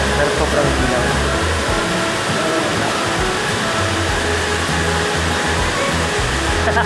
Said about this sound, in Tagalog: Talbadon Falls, mga brother.